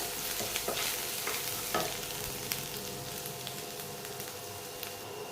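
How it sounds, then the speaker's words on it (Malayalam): Garlic and ginger fry in hot oil in a pan, a soft, steady sizzle broken by several light scraping stirs, fairly quiet and close, with no talking. "എണ്ണ ചൂടായി വന്നിട്ടുണ്ട്. അതിലേക്ക് നമുക്ക് വെളുത്തുള്ളി ഇട്ട് കൊടുക്കാം, ഇഞ്ചി ഇട്ട് കൊടുക്കാം. ഒന്ന് ഫ്രൈ ചെയ്യാം."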